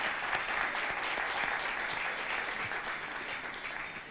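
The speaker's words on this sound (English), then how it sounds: "Let's acknowledge them, please, with a warm round of applause." Warm audience applause for international media partners at an evening ceremony in Barbados, a steady wash of many hands clapping that holds for a few seconds and eases slightly toward the end.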